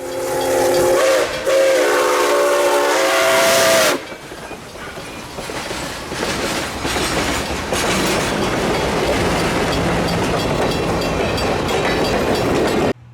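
Nickel Plate Road 765 steam locomotive labors loudly up a tough grade near Angola, Indiana, opening with a long sustained whistle, then heavy chuffing and hissing steam rolling on continuously.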